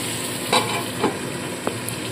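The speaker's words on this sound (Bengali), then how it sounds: "সামান্য নুন হলুদ দিয়ে আলুগুলো ভাজতে হবে।" Potatoes fry with salt and turmeric in a pan, a steady close sizzle with a couple of soft stirring scrapes.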